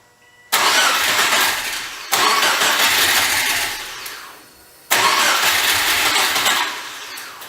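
Subaru Forester engine cranking and firing in three loud, close attempts, each an abrupt start followed by several seconds of rough running that fades or cuts off, with no talk.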